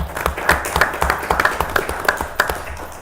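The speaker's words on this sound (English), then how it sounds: "So let's give him a round of applause." A council meeting audience applauds an award, a modest scattered round of clapping from a room of people, steady for a few seconds at moderate volume.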